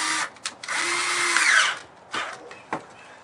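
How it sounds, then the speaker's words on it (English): A cordless drill with a 5/16 inch nut driver tightens a clamp, whirring in short bursts: a long run in the middle, brief pulses before and after, close by with no talking. "using your cordless drill with a 5/16 inch nut driver"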